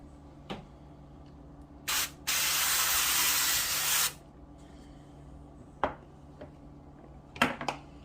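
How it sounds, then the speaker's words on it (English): A short burst of avocado oil cooking spray onto a pan is followed by a longer steady aerosol hiss lasting about two seconds, with scattered light clicks and taps around it. "now I'm going to spray my pan with the avocado spray"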